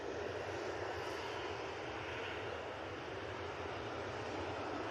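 A FlyOne airliner arriving at Manchester Airport gives a fairly faint, steady engine roar from some distance, a continuous wash of jet noise with no voices over it.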